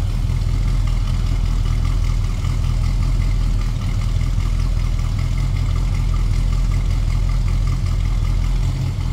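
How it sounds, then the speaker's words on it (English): 1965 Plymouth Barracuda with a Mopar V8 idling close by, a steady, loud low rumble with an even throb that holds unchanged throughout, no voices over it. "A little rumble coming out of that Mopar."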